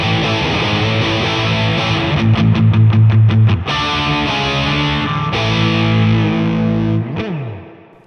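Electric guitar running through an Affordaboard Neon Overdrive pedal set for a punk tone, with crunchy distorted chords, a quick burst of choppy muted strums, then ringing chords ending in a descending slide.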